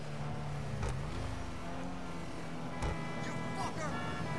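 Engine of the Ocelot Ardent sports car in GTA5 accelerating, a steady harmonic whine climbing in pitch across the run, with a brief gear-shift dip and voices talking over it.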